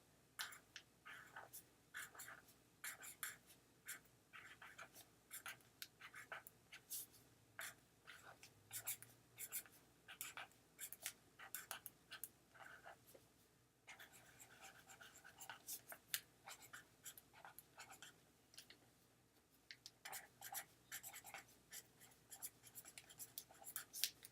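A marker scratches across paper for a long stretch in quiet, close, irregular strokes and squeaks, with a few short pauses between them.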